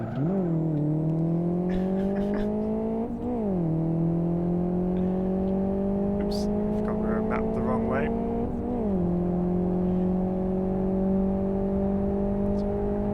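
In the racing sim Live For Speed, a race car engine holds a loud, sustained whine, with pitch jumping at quick gear changes and light tire noise over the continuous drone.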